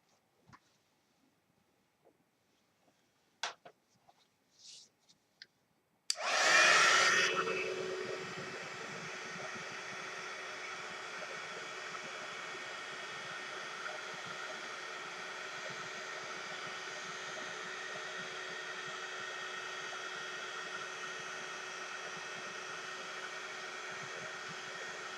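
A heat tool melting embossing powder on a landscape craft background: after a few faint taps and clicks it switches on with a loud burst, then holds a steady, close whooshing blower roar for about twenty seconds, with no talk.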